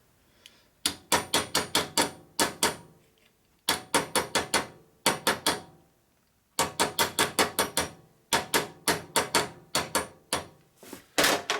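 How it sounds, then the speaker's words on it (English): A hammer strikes a copper oil line tube for a 1930-36 motorcycle in quick bursts of sharp, ringing metallic taps, five to eight blows per burst, close and loud, separated by short silent pauses. "the hammer, you can hit it right where you need to hit on it"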